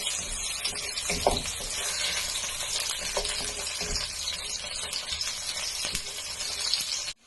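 Ginger, garlic and green chilli sizzling in a hot pan for fried rice, a loud, unbroken crackling fry with a few scraping stirs, close by and with no voices.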